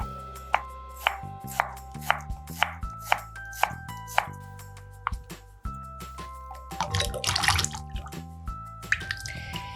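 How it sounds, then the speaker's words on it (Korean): A knife chops ham rhythmically on a cutting board, a steady series of sharp thuds, followed by a burst of running water and splashing as rice cakes are rinsed. "햄은 조금 크게 썰을게요."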